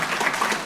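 An audience at a livestreamed anti-corruption event claps, a dense steady patter of many hands lasting under a second, fairly loud with no voices over it.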